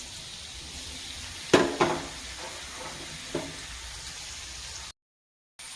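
Crushed shallots dropped into hot coconut oil crackle with a sharp burst and a second splash, then settle into a faint steady sizzle, ending in a brief silence.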